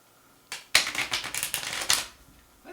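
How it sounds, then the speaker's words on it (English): Very large tarot cards being shuffled, a burst of rapid flapping riffles lasting about a second and a half, close and fairly loud, with brief quiet before and after. "Let's do a shuffle here."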